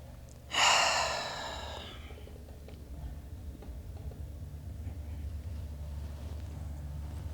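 One deep, breathy inhale or sigh during yoga rises clearly near the start and fades within a second, followed by quiet low room noise with no talk.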